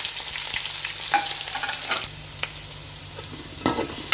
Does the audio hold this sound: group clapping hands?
no